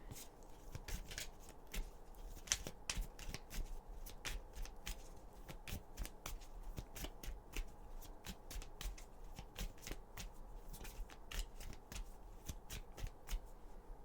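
Tarot cards handled and shuffled at close range, a steady run of quick papery riffles and soft flicks that continues for the whole stretch with no talk.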